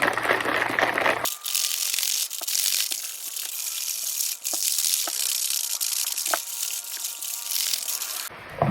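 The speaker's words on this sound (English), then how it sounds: "Of course, with all G Fuel, you have to mix it for quite a few minutes." G Fuel Tropical Rain drink powder is shaken with water in a shaker cup, a loud, close, continuous sloshing rush that starts abruptly and keeps an even churning texture with occasional knocks throughout.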